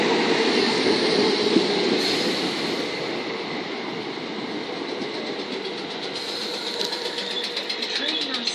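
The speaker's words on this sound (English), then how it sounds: "The train now standing at platform 2 is the 1507 Southern." A Southern electric passenger train, class 455 unit 455808 bound for Caterham, stands and moves at platform 2 of Brockley station on the Brighton Main Line. It gives a loud, continuous rumble and hum with shifting mechanical whine.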